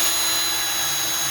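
A power drill bores into a hardwood planter board for a timber window box, a steady, close, high-pitched whine holding even and loud throughout with no talk.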